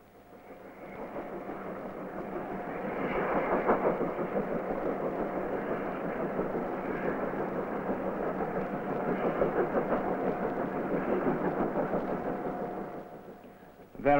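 A low, steady rumble of rolling freight wagons in a 1950s South Wales automatic marshalling yard swells and fades over several seconds, with faint metallic squeals and clanks in the distance.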